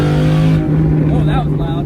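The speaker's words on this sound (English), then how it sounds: "Loud exhaust saves lives." A Porsche Cayman with a loud exhaust roars close by in a brief, strong burst of engine noise that fades slightly at the end, with a voice speaking over it.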